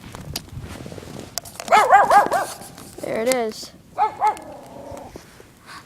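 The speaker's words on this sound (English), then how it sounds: "It's a little dog making all the noise." A small dog yaps in short bursts of high, repeated barks with some whiny yips, fairly close, outdoors by a campfire, while someone speaks briefly between the barks.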